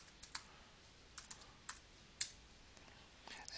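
Typing an email address and password on a computer keyboard, with quiet, sparse key clicks tapped out irregularly and close to the microphone, and no voices.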